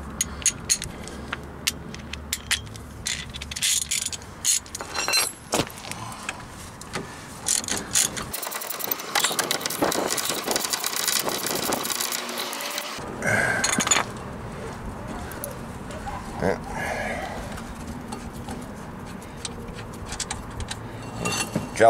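A ratchet with a short extension loosens a caliper bracket bolt on a 2006 Toyota Corolla during a front brake job, giving bursts of rapid metallic clicking and clanking tool handling, close up.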